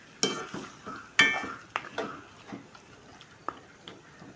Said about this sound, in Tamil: சிக்கன் சேர்த்து இது நல்லா வச்சு அந்த எண்ணெயிலும் இந்த சிக்கன் நல்லா முன்னாடி கலந்துக்கணும்